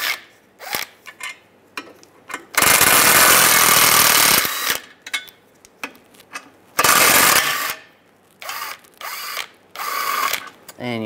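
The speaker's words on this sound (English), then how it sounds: "Using a 13 millimeter socket, take these three bolts out." A 13 mm socket on a power tool whirs and rattles in two loud, sustained bursts amid shorter ratcheting clicks, removing three bolts from a Volkswagen Beetle front CV axle, close up.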